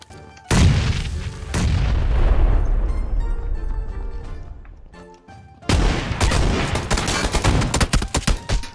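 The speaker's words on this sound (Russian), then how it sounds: "Я под себя гранату кинул." Grenade explosions in the shooter game PUBG: a sharp, loud blast with a long booming decay, a second heavy detonation, then another loud burst of crackling explosive noise, close and forceful.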